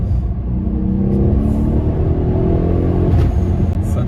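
A Mercedes-Benz CLS AMG accelerates hard with a steady, loud, deep engine roar heard from inside the car, sustained throughout with no talking.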